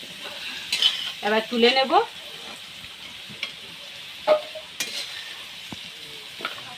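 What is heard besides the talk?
potatoes frying in oil in a pan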